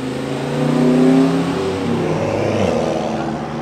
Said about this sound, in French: l'immense bruit de turbo que tu as entendu, c'est une R5, ouais c'est une Renault 5 Turbo je pense, hein, qui est passée là